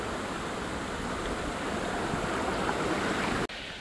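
Steady broadband rush of a forest waterfall stream flowing on the way to a hill temple, loud and continuous with no voices, cutting off abruptly near the end.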